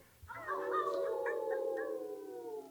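A human voice imitates a wolf howl, one long sustained rising-then-falling wail lasting over two seconds, close and clear with no other sounds.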